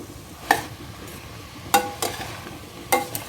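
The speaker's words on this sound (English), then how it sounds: "In between keep on stirring, else the masala will stick to the bottom" A spoon stirs vegetables and masala in a pressure cooker for coconut milk veg biryani, with four separate scraping strokes against the metal pot over a faint sizzle, close and with no talk.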